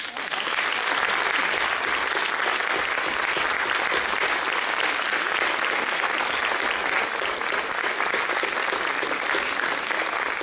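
An audience applauds at a French musical theatre show, Salem et la malédiction. The clapping is thick and sustained and stays at a constant level from start to finish.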